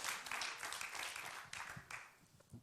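An audience at a business awards event applauds, a continuous wash of clapping at moderate level that swells and thins in waves, fading toward the end.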